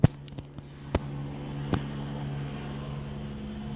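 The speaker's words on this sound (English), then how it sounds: "It's a crazy helicopter. It's low flying. Gosh, it's really loud." A low-flying police helicopter gives a steady low rotor and engine drone with tonal hum, close and fairly loud, with a few sharp knocks over it.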